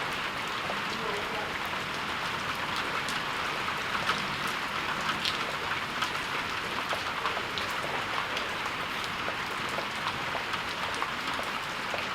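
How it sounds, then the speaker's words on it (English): Heavy rain from a storm on the Hawaiian island of Lanai falls steadily and densely, a continuous hiss with scattered drop patters, close and constant throughout. "Wow, it's just a big storming day."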